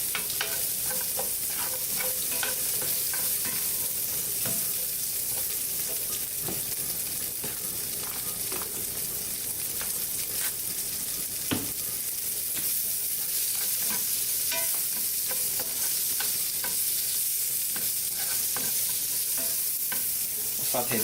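Vegetables for a quinoa salad paella sauté in a pan with a dense, continuous sizzle and frequent stirring scrapes that hold steady throughout.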